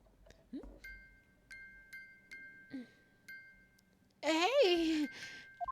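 Repeated light chimes in the courtroom game Ace Attorney Chronicles, evenly spaced bright taps over a sustained tone, ending in a brief burst of loud in-game voice.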